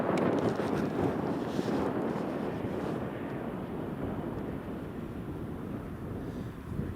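Aircraft departing Newcastle International Airport, a broad rushing jet roar that is strongest at first and then eases slowly, heard from a distance with some wind buffeting and no voices.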